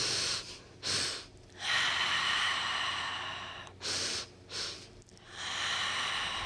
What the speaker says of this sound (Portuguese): Puxa pelo nariz, solta pela boca.